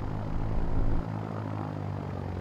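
A simulated Piper PA-30 Twin Comanche engine in X-Plane 11 runs with a low, throbbing propeller drone that drops to a quieter, steadier idle partway through.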